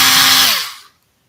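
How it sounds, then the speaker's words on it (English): Loud power drill whines at high speed in a workshop setting, then spins down and fades to silence within about a second. "That is the loudest damn drill I've ever heard in my life."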